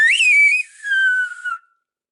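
A clear, close word whistled in El Hierro whistled Spanish, in two parts: a rising then level note, a short gap, then a long slowly falling tone.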